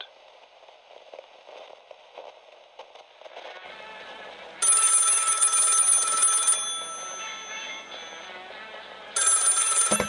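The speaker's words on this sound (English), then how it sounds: "It all started with a phone call from an old friend." A telephone rings in two loud electronic bursts with a pause between them, over a soft musical bed, in an audio drama set in Cairo.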